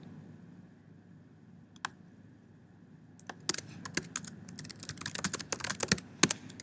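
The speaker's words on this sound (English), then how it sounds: "So we can just type like this." Typing on a computer keyboard while building a website: after a few lone clicks, a quick run of close, crisp keystrokes fills the second half over a low room hum.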